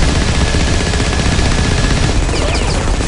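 An AoE minigun in the shooter Firefall fires in one continuous loud roaring burst, a dense, rapid stream of shots with explosive impacts throughout, close and unbroken.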